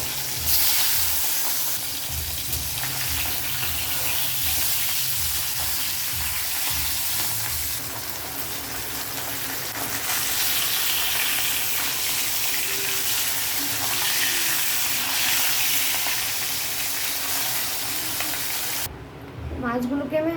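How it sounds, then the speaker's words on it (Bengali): Fish pieces fry in hot mustard oil in a wok, a loud, continuous hiss and crackle of sizzling throughout, with brief stirring sounds and a sharp cutoff at the end. "আবার এক এক করে আমি মাছগুলো কড়াইয়ের মধ্যে দিয়ে দেবো"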